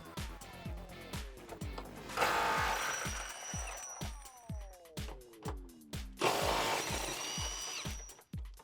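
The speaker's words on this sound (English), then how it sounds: "we used a deep 18mm socket and an impact gun" An impact gun fitted with a deep 18mm socket rattles loudly in long, close bursts, hammering out the body bolts on a Jeep Wrangler JK 4-door, with sharp clanks and short pauses between the runs.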